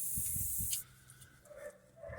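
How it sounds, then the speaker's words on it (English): Penetrating spray hisses from an aerosol can onto a suspension pinch bolt near a brake disc, a steady close spray lasting under a second before cutting off, followed by faint workshop sounds. "Spray some of this on here, hopefully it doesn't go on the brake disc."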